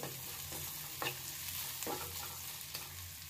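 Spices frying in hot oil for chili gobi, a steady close sizzle broken by a few soft stirring scrapes, with no talking.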